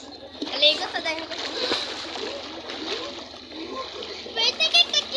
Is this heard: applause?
no